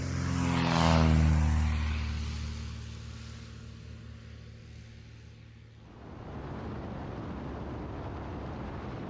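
Vintage planes, including a timber-framed Tiger Moth, taking off in Tasmania: a loud droning propeller engine passes close early, then fades away and gives way to rushing wind noise.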